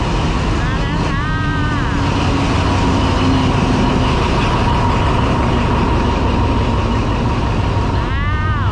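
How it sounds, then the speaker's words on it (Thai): A train arrives at Hua Hin railway station with a loud steady rumble of wheels and engine, two rising-and-falling whistle or horn tones near the start and end, and people talking nearby. "นี่มาแล้วรถไฟมาพอดีเลย"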